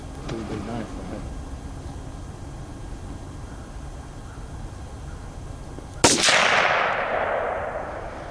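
A single sharp .22 caliber gunshot cracks at an outdoor shooting range, loud and close, followed by a brief ringing decay over steady background noise.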